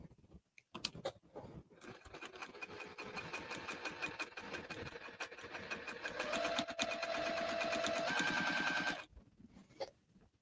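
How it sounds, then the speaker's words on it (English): A sewing machine stitches down the long edge of fabric for a drawstring bag, starting in short stuttering bursts, then running in one fast, steady, close-up stretch before stopping. "I'm going to sew down the long edge of this piece."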